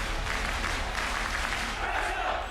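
A football stadium crowd of about 12,095 applauds at the Racecourse during a Wrexham match, a dense, continuous wash of distant clapping and cheering with a voice faintly over it.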